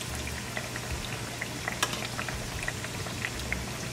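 Plantain slices fry in oil in a pan over medium-high heat with a steady, close hiss and scattered small pops and crackles throughout.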